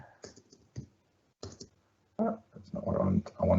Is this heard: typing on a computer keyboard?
yes